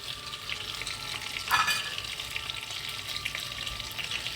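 Pork ribs and vegetables cooking gently in a pan, a soft, steady low sizzle with a brief louder burst of crackle and scraping partway through.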